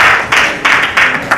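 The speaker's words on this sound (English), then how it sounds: "Let's clap for him" A crowd of guests claps for a certificate recipient at a Kenya Red Cross Society fundraising gala dinner in Bungoma, with loud, dense applause swelling in quick repeated bursts.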